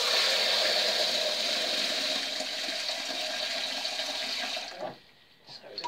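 Boiling water poured for making elderflower champagne, a steady, fairly loud rushing splash that runs for about five seconds and then stops abruptly.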